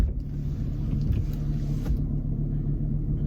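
A car exhaust rumbles in a steady, close, low drone that runs unbroken throughout.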